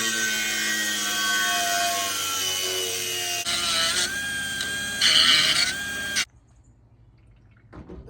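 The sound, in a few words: sawing a notch in wood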